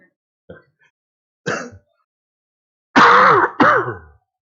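Short throat-clearing sounds followed by two harsh, close coughs in quick succession, with silence between.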